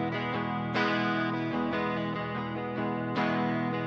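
Electric guitar played through a DIY fuzz pedal with added chorus and reverb, gained-up chords ringing out with a shimmering, wavering tone, re-struck a few times over sustained distorted notes, loud and alone.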